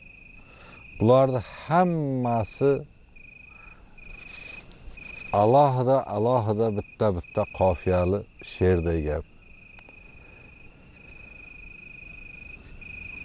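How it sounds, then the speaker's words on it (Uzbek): Crickets chirr at night in a village, a steady high-pitched continuous trill running the whole time while someone speaks over it in several bursts. "chigirtkaning chirillashi"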